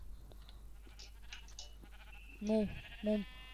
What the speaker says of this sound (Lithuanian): Girdžiu, ai va, avių yra čia.